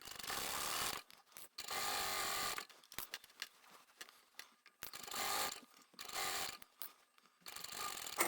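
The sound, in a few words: sewing machine stitching a tote bag lining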